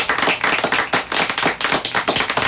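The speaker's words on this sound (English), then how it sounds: "Can you give us a golf clap on that?" A single person doing a golf clap, rapid, even hand claps repeated steadily for a couple of seconds, close and fairly loud, no one speaking.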